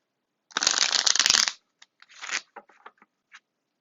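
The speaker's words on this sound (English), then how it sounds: "Let me just shuffle real quick" A deck of tarot cards is riffled in one dense, crisp burst lasting about a second, followed by a few softer shuffles and taps, close and clear.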